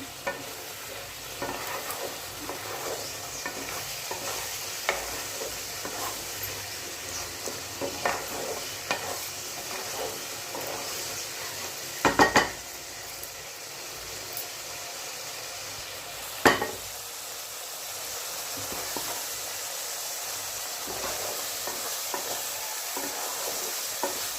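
Cauliflower roast sizzling in a pan while being stirred, a continuous soft frying hiss broken by occasional utensil scrapes and a couple of sharper clatters against the pan.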